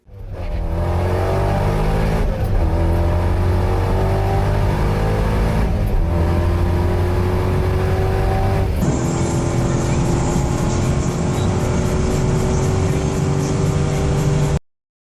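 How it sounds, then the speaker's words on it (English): A supercharged C5 Corvette pulls hard from 60 to 130 mph, its engine roaring loudly and rising in pitch, with a gear change about two-thirds through before the roar climbs again and then cuts off abruptly. "this very C5 when it was stock going from 60 to 130 versus the same C5 with the addition of a little supercharger magic"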